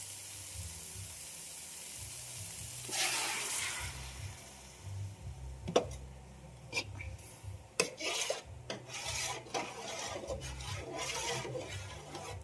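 Meat sautéing in a pan for a mongo dish, with a low sizzle under scraping and rasping strokes of a utensil, several sharp knocks and clatters from the middle onward, no voices.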